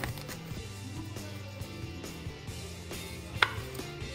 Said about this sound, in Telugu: అలా 4 పీసెస్ చేసి చిన్న చిన్న క్యూబ్స్ లాగా చేసేసేయాలి